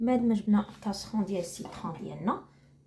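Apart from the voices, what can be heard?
No everyday noises stand out.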